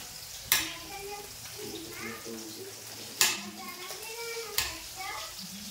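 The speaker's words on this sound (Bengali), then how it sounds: "তোমার জন্য তরকারি রান্না করছি।" Curry frying in a pan sizzles softly while a spoon stirs, with three sharp scraping clacks against the pan spaced a couple of seconds apart, and a voice chattering over it.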